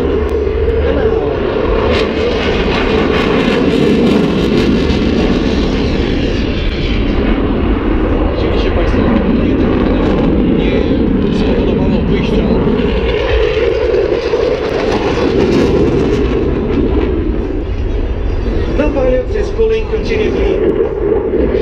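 A Eurofighter Typhoon jet at an air show roars continuously overhead, a loud, steady engine rumble that swells and shifts slightly as it loops and turns, with a commentator's voice heard over it.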